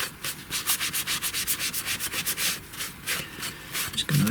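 A cloth or pad rubbing finish onto a flat engraved slate surface, a close, steady series of rhythmic back-and-forth scrubbing strokes, about ten quick passes, with no talking.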